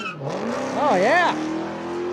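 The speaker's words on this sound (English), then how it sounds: "just a little too much wheel speed there on the Hellcat" A Dodge Hellcat launches down a drag strip, a loud engine roar rising and sweeping in pitch as the tires spin with too much wheel speed, with crowd and commentary talk over it.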